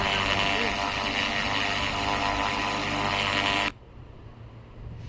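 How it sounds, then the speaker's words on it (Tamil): Airplane taking off in an Indian bike video game: a loud, steady broadband engine roar holds for several seconds, then cuts off abruptly, leaving quieter background noise. "ஃப்ளைட் வந்து டேக் ஆஃப் ஆயிடுச்சுங்க."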